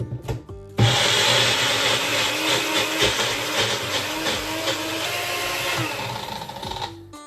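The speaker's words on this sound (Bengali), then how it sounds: "ততক্ষণে আমি একটু আদাটা পেস্ট করে নিই।" Electric blender grinding ginger into paste, a loud steady whir that starts abruptly after a brief pause and runs for several seconds before cutting off, close and alone.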